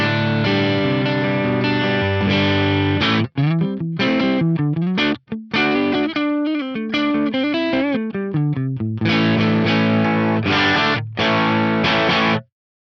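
Electric guitar played through the Quad Cortex CA 1-star clean 100 watt normal amp model, ringing chords and arpeggiated notes with a full, sustained tone, loud and continuous apart from brief gaps, with no talking.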